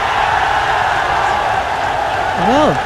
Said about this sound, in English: you can hear by the roar, the Bangladeshi crowd